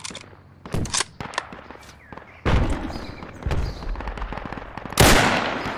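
Gunfire in the military shooter game Project Reality, with sharp close bursts early, then a dense rattling stretch and a loud blast near the end, with thuds and footsteps between.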